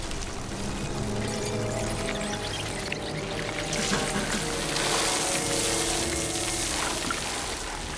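Hot water pouring onto a swarm of ants, a steady rushing splash that keeps going for several seconds and grows slightly louder midway, heard alone without voices.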